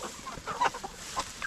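Chickens on pasture cluck in short, scattered bursts, several birds close by over a soft outdoor background, with no talking.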